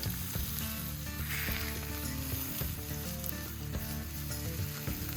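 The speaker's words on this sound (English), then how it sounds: "The sizzling sounds and tantalizing aromas of frying meat are like music to the ears" Ribeye steak sizzles and crackles steadily in an improvised tandoor made from an old cable drum outdoors, a dense continuous frying hiss with layered hum beneath and no talking.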